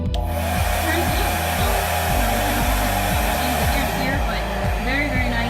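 An InStyler Blue Turbo Ionic hair dryer is switched on and runs loud and close. Its whirring motor and rushing air hold steady, with a slight wavering tone underneath.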